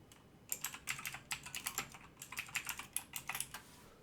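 Rapid computer keyboard typing, a quick, faint run of clacking keystrokes in uneven bursts with short pauses.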